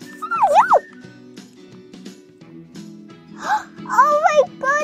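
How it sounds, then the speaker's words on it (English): Cartoonish dog pet sounds from the Roblox game Adopt Me, a short yipping whimper near the start and another cluster of yips and whines later, heard over steady game music. "I got a dog, which is the common pet"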